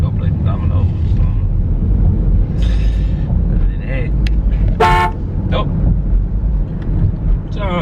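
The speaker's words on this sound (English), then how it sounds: "that's the second person that honked at me" Car horn honks at a passing vehicle out on a street, short toots over loud traffic rumble, with someone talking throughout.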